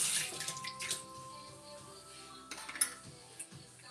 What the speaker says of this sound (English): that's me pouring the coffee probably